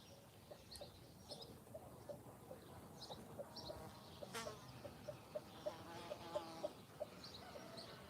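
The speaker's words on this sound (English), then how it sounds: "That's actually a rooster making that puk puk puk noise." A rooster on a farm gives a run of short, evenly spaced puk-puk clucks over found food, steady and fairly close, with faint insect buzz and outdoor background behind it.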